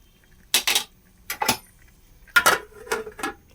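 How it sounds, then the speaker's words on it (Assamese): A metal lid clanks onto a cooking pot of goat meat seasoned with turmeric and salt, several sharp clinks and rattles in short bursts separated by quiet gaps, close and fairly loud. "এতিয়া মই অকণমান সময় ঢাকি দিম"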